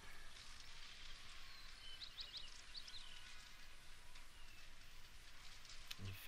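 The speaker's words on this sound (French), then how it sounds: "Et il pleut." Rain falls steadily in the Baldur's Gate video game as a soft, continuous hiss, with faint bird chirps now and then and no talking.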